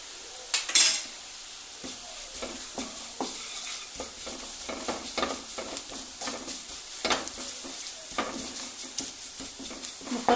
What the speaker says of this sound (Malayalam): കുറച്ച് നേരം ഒന്ന് ഇളക്കുക